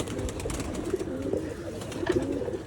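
A Muslodom pigeon coos on a rooftop, several soft, low rolling coos repeating at moderate distance over steady outdoor background noise.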